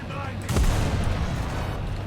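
Heavy artillery fire in a video game: a loud booming blast lands about half a second in, then rumbles and decays under sustained low battle noise.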